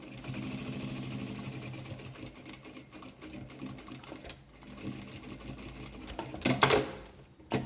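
A sewing machine runs steadily, stitching a small fabric pocket on a scrap-fabric multipurpose pouch, its motor whirring close and continuous before a few louder mechanical clicks near the end.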